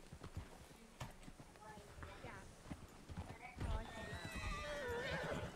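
A horse whinnies loudly over the clip-clop of hooves in the video game Red Dead Redemption, with people talking in the background throughout.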